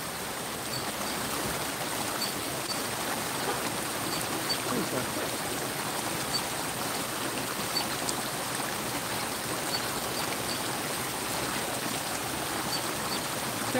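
A creek flows with a constant soft rushing and babbling, steady and fairly quiet throughout.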